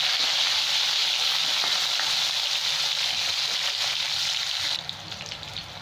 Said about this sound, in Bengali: খুব বেশি ভাজবো না, হালকা ভেজে উঠিয়ে নেব।